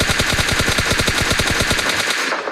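Automatic rifle fire in the mobile battle royale game PUBG Mobile: a loud, steady stream of rapid shots at an even rhythm, lasting about two seconds before cutting off, with no voices.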